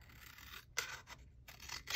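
Scissors snipping through a cardboard box, several quick crisp cuts in an uneven rhythm, close and fairly quiet with no talking.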